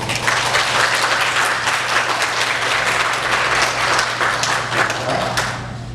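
A church congregation applauds to welcome a guest during a Sunday service, a steady, close wash of many hands clapping that tapers off at the end.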